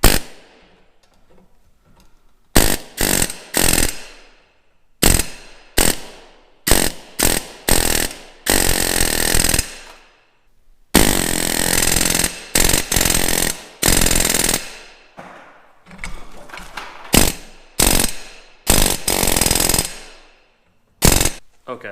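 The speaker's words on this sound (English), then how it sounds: "I drilled out one of these holes too big" Holes drilled out in a metal part from a 2018 Jeep Wrangler JL: loud, harsh power-tool bursts start and stop repeatedly, some brief and some held for a couple of seconds, separated by near silence.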